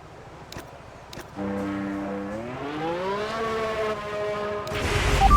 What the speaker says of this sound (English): engines fired up, we're set.